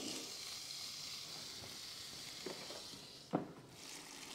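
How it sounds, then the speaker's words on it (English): Steak sizzling on a Paris Rhône electric indoor grill with the lid closed, a steady broad hiss of frying fat carrying through the whole stretch, with a few soft pops and one sharper crackle near the end. "You can listen to that sizzle though."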